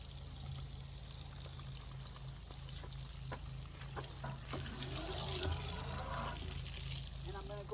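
A garden hose runs water outdoors, a faint continuous pouring and trickling stream under a low background hum, with a few light knocks scattered through.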